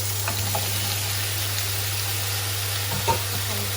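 Carrots and tofu fry in a pan with a soft, steady sizzle, joined by a few faint stirring clinks and a low background hum.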